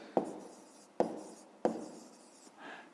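Pen or chalk strokes write out a maths solution in three sharp, evenly spaced scratches, each fading quickly, close and fairly quiet with no talk.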